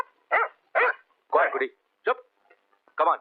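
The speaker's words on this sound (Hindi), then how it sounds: "तेरा कुत्ता रो रहा है।" A dog whines in short, pitched bursts in a dramatic film scene, while someone speaks stern commands to it between and over the cries.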